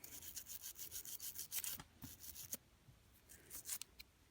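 An old toothbrush scrubs the cutting blade of a Stampin' Up! paper trimmer, giving soft, quiet bristly rubbing strokes in uneven bursts with short pauses between them, and no talking.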